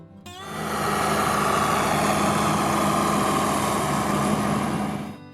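A John Deere 4440 tractor engine runs at a steady idle, close and continuous with an even drone, starting abruptly and fading at the end.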